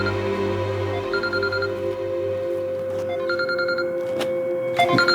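A ringtone chirps in repeated short bursts over a steady electronic hum and room noise, with no one speaking.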